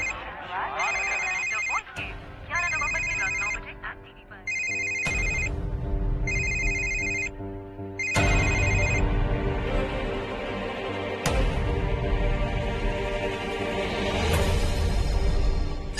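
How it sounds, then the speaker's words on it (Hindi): A telephone ringing in a Hindi TV serial scene, an electronic ringtone repeating in five short bursts before dramatic background music swells and takes over, loud and close. "रमेश का फोन"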